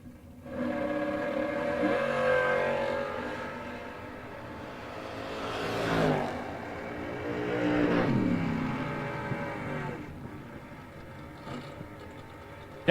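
Drag racing at a raceway, a Chevy II and another car launching side by side down the strip, engines swelling and fading in long roaring passes at moderate distance, heard alone.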